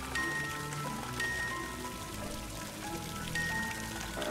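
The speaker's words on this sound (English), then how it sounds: "All players have health rain for 5 minutes." Rain from a health rain effect in a video game falls as a steady, soft patter, quiet and unbroken for a few seconds with no voices.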